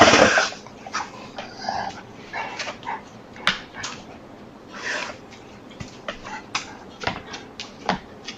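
A dog breathes heavily and whimpers close by in a quiet room, with soft panting huffs and several high whines spread through the stretch, no talk.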